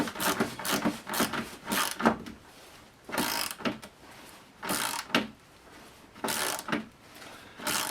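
A hand ratchet loosens stiff bolts on a Porsche 928 in repeated bursts of clicking, close and fairly quiet, with brief pauses between groups of strokes.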